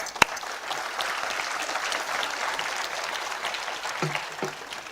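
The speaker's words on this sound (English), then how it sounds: "It's your achievement and it deserves a big applause." At an MBA convocation ceremony in Mumbai, the audience applauds the graduating class with a steady, dense wash of clapping that carries on for several seconds, opening with one sharp nearby clap and closing with a few low thumps.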